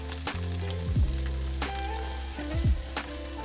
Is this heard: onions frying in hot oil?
yes